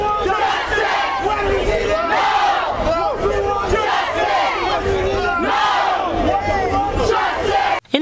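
Protesters chant in the street as a loud, dense crowd, voices rising and falling together continuously before stopping abruptly at the end.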